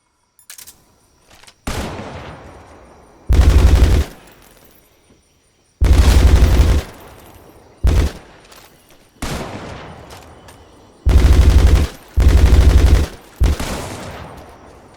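Gunfire in Metal Gear Solid Delta: Snake Eater: loud, close bursts of automatic fire and single shots, separated by pauses and echoing tails.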